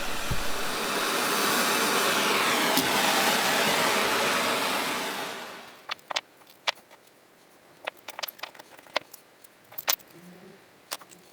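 A belt sander and disc sander grind 15mm copper pipe parts for a star lamp in a steady, loud broadband rush for several seconds, then stop, leaving scattered sharp clicks and taps of the metal pieces.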